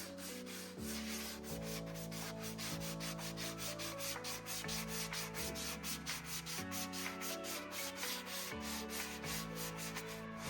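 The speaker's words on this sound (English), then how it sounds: "Use your sanding block to gently smooth all the corners and edges of the mud" A sanding block rubs over dried drywall mud on the corners and edges of a wall patch in steady, rhythmic strokes, faint beneath continuous music.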